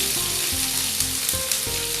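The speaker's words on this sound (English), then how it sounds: "And now I'm going to add to that my onions." Onions tipped into a pan of hot oil with chickpeas, sizzling and frying loudly and continuously, with a few soft knocks from stirring.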